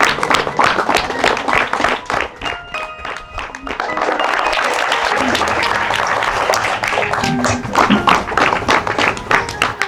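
A school gathering gives loud, sustained applause to welcome three chief guests, a thick wash of many hands clapping that swells and carries on for several seconds, with some voices faintly mixed in.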